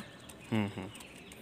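A white Jiria racing pigeon coos once, a short low throaty burst followed by a softer second note, close by against a quiet indoor background.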